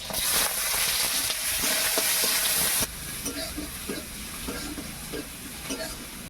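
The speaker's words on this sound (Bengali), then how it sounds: "তেল গরম হয়ে গেছে, চিনি দিয়ে দিচ্ছি। দিয়ে দিচ্ছি কাঁচা লঙ্কা, কুচনো পেঁয়াজ," Sugar, green chillies and chopped onion hit hot oil for a snail curry, giving a loud, dense sizzle that drops to a lower crackle halfway through, broken by scraping stirs.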